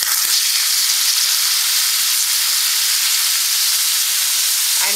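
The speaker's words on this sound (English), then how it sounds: "And fry for 2 to 3 minutes." Tomato and turmeric powder frying in a pan give a loud, steady sizzle and hiss that carries on without a break, close up, with no talking.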